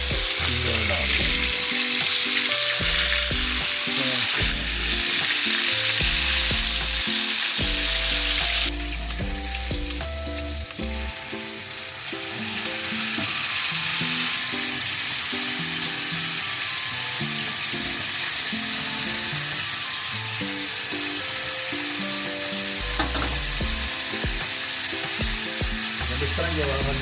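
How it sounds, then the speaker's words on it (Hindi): Steak sizzling and frying in oil in a hot pan, a loud steady crackle that persists throughout, with occasional stirring or shifting noises and no talking. "स्टेक बनाने के लिए सबसे पहले देखना है पैन पूरी तरह गर्म है"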